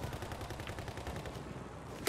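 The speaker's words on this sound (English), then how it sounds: "Oh, I've been shot at." Rapid gunfire in a video game set around a 1985 Russian sniper scenario, a dense burst of repeated shots fired toward the player, fairly close and continuous, ending with a sharper crack.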